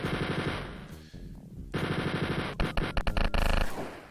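Rapid automatic gunfire in Wolfenstein 3D, loud bursts of fast repeated shots that pause briefly and then resume, ending in a few separate sharp shots over game sound.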